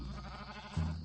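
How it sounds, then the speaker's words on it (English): A goat bleats once, a short, buzzy nasal call rising near the end, over a steady low background with no speech. "He thought he heard a bleat, a sarcastic bleat, from the poet's goat."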